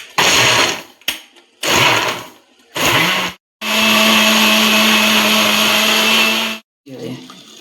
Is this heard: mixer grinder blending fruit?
yes